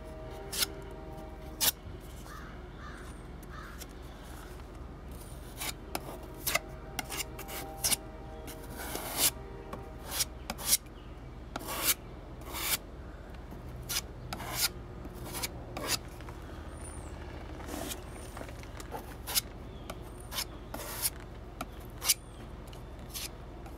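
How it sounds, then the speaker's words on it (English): Bondo body filler is scraped and spread into small holes on a Beachcomber B15, giving a long run of close, rasping spreader strokes with irregular scratchy swipes and ticks over a low steady hum. "I'm gonna get some Bondo in these little holes here"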